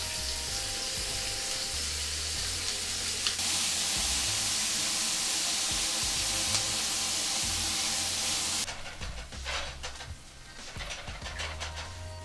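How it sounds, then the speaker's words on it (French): Shrimp searing in canola oil in a hot pan, a loud steady sizzle and hiss that holds throughout and thins slightly toward the end, with no talking. "On veut une poêle chaude, on veut vraiment venir saisir nos crevettes le plus rapidement possible."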